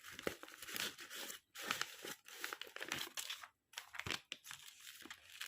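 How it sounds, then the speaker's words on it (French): A jewelry order slides into a paper envelope with cards, producing close, quiet bursts of paper crinkling, rustling and sliding broken by short pauses, with no talking. "Je la mets dans l'enveloppe avec ma carte flyer, plus la carte de remerciement."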